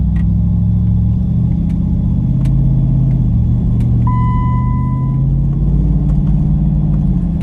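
A Jeep Wrangler JK with a swapped-in Hemi V8 on its first test drive gives a loud, steady low engine rumble heard from inside the cab, with faint rattles and a brief chime partway through.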